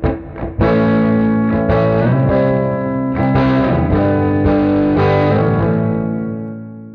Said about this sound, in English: I'm going to add a reverb effect to my pedal chain